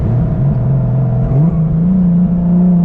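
A 600 WHP 1.5JZ-swapped Lexus IS300 engine revs under boost, a loud, close, rising drone with a turbo whir building as it spools, heard from inside the car without talk.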